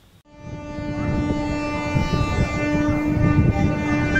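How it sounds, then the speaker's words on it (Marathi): A Mumbai local train running steadily, a loud sustained mechanical rumble with a droning tonal hum, close and continuous with no talk. "मुंबई लोकल"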